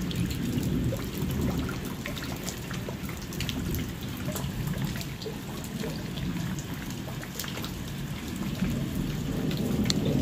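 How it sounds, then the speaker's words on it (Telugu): Heavy rain pours steadily during a village thunderstorm, with low rolling thunder rumbling underneath throughout, loud and close, without voices. "వాన పడుతూనే ఉంది."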